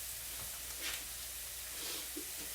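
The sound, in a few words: onions searing in a frying pan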